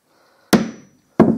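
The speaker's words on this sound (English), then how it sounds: "What I'm going to do is put a little ding in this cue with a hammer." A hammer strikes a wooden snooker cue twice, two loud, close, sharp knocks about two-thirds of a second apart, each ringing out briefly before silence.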